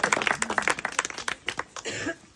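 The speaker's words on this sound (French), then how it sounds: "vous pouvez l'applaudir" Scattered clapping breaks out as an audience applauds during a farewell speech for parish priests, with a few sharp, uneven bursts before the sound fades.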